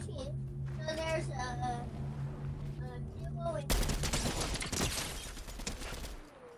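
Fortnite gunfire erupts midway as a dense, rapid burst of shots that crackles for a few seconds. Players chat over the game audio before and during the shooting.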